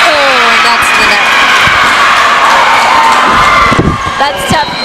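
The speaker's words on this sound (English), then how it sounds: "We've got a really hype crowd in here" A crowd and student section cheer loudly throughout a college volleyball match between Tabor College and Columbia College, shouts and whoops rising over the din, with an announcer's voice carrying above it.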